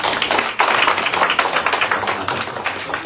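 A church congregation claps hands in praise, a dense, rapid, continuous patter of many hands at close range, with no talking.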